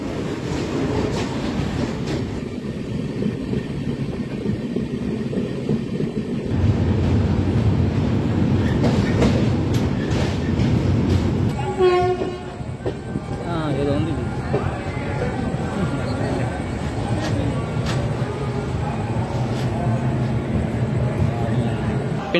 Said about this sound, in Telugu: ఇదిగోండి మన పినాకిని ఎక్స్ప్రెస్ ప్లాట్ఫామ్ నెంబర్ 5 మీదకి అయితే వచ్చింది